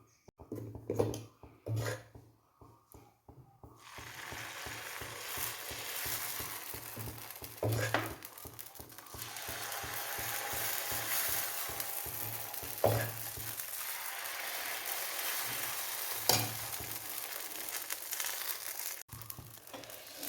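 Kallappam batter frying on a dosa griddle, three small rounds at once, giving a steady close sizzling rasp with soft scraping and tapping touches throughout.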